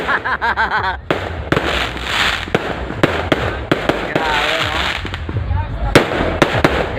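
Fireworks burst close by at a political grand rally, a dense run of crackling pops and booms over a steady roar, with excited voices talking and calling out throughout.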